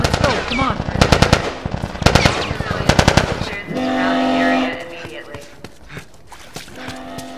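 Dense rapid gunfire crackles in The Last of Us, with quick repeated shots and bursts over a couple of seconds. A sustained droning tone and scattered thuds and shuffling follow.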